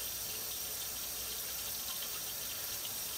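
A kitchen tap runs in a steady, fairly loud hiss of flowing water while dishes are washed, with no voices.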